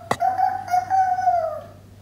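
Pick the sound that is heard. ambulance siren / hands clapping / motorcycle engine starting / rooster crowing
rooster crowing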